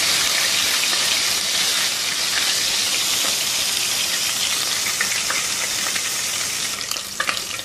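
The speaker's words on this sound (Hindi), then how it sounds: "1-2 मिनट सौते करेंगे इसको" Garlic ginger paste sautés in hot oil in a pan, a loud, steady, close sizzle with occasional stirring scrapes and no talking.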